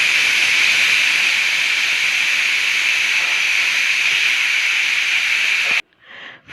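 A pressure cooker with a tamarind, garlic, cumin and coriander mixture inside whistles in one long, loud, steady hiss of escaping steam, then cuts off abruptly near the end.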